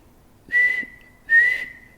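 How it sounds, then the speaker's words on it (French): Two short, high whistle blasts from a natural whistle made from a seed pod, each about half a second long with a slight pause between, clear and fairly close with no talking. "J'ai soufflé dans mon sifflet naturel"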